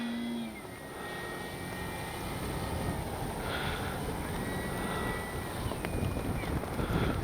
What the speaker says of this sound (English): wind kicked up